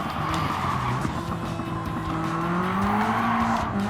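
Tires squeal and engine whines as a 500hp 2015 Mitsubishi Evo tangles with another car on a Gran Turismo 7 race track, a steady loud blend of motor drone and skidding with rising pitch sweeps.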